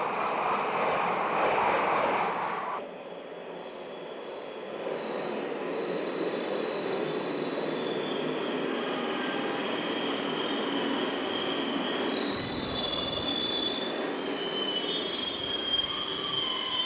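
An SNCF train rolls along the rails with a sustained high wheel squeal over a continuous rumble, fairly close and steady, with the tone shifting slightly as it passes.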